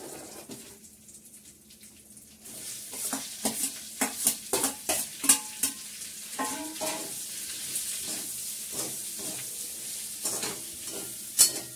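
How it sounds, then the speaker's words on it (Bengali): Chopped bottle gourd added to a hot pan and stirred, bursts of sizzling frying with repeated scraping stirs, close and fairly loud after a quieter start. "আমি লাউটা দিয়ে দিচ্ছি এর মধ্যে।"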